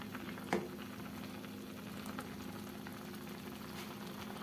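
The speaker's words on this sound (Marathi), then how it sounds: "आता फक्त थोडासा वेळ मी तिला उकळू देते" A fenugreek leaf curry with ground masala simmering in a pot on the gas: a soft, steady bubbling murmur with one brief clink near the start, faint and close, no voices.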